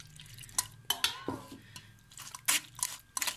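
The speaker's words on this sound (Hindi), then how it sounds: "अब थोड़ा सा इसमें पानी डाल देंगे" Water is poured onto tamarind in a kitchen vessel for chutney, giving a few wet splashes and squelching stirs with brief clinks of utensils, close and fairly quiet.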